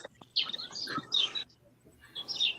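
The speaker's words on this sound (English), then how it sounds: "And the birds are chirping." Birds chirp outdoors in short bright bursts of high trills, moderately near and fairly faint, with quiet gaps between the calls.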